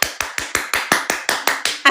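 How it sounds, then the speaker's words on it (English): A person claps their hands, about ten sharp, evenly spaced claps in quick succession, close and crisp with nothing else heard. "She's clapping."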